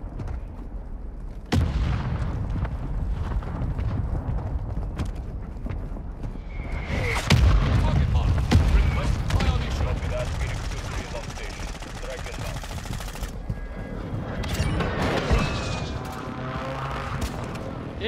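Sniper rifle shots in Call of Duty gameplay, a few sharp loud reports over game ambience and explosions, with players talking throughout.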